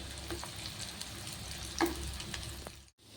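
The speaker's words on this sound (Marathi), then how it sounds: "तर वडी आपण छान तळून घेतलेली आहे" Pumpkin vadi fries in a pan with a steady bubbling sizzle, a brief utensil scrape near the middle, then a sudden drop to near silence at the end; no talking.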